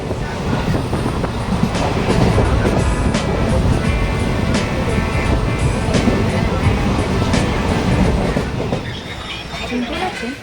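A passenger train running from Dakshineswar station toward Rampurhat rumbles and rattles steadily close by, with rhythmic wheel clatter and occasional sharp metallic clicks, while a voice murmurs faintly under the noise.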